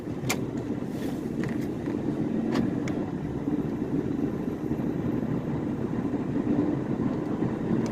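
A 2006 Chrysler PT Cruiser drives along the road, with a steady low engine and road rumble inside the cabin and a few faint ticks and rattles over it.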